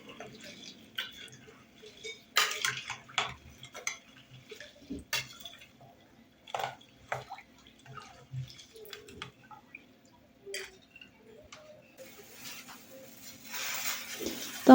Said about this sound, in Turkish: Ve üzerine 2 litre soğuk suyumuzu ilave ettikten sonra şöyle güzelce karıştıralım